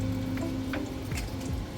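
Cinnamon stick and bay leaf sizzle in melted butter in a pan for an Indian paneer butter masala, a steady soft frying crackle with a light stirring scrape, alone and close.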